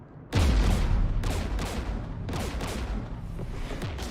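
Heavy gunfire erupts in a Mass Effect 3 battle against Geth forces near a jamming tower with anti-aircraft guns, a sudden loud burst followed by sustained rattling volleys and booms continuing throughout.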